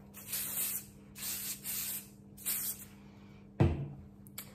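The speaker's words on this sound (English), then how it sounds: "And we're gonna spray." Three or four short hissing bursts of aerosol hairspray, close by, followed by a sharp thud near the end.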